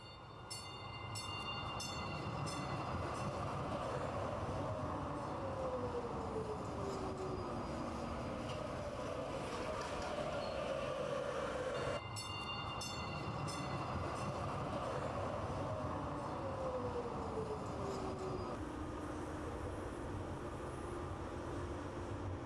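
A train rolls steadily along the rails with a continuous loud rumble and rattle, high whining tones gliding through it and a faint horn-like note, no voices heard.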